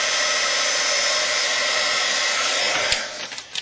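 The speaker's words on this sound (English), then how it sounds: "if you heat them up with your heating tool," A handheld heat tool blows hot air onto thick Zot glue dots, producing a loud, close, steady whooshing roar that cuts off near the end, followed by a few soft handling bumps.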